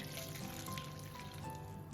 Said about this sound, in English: now we can pour the coffee mixture in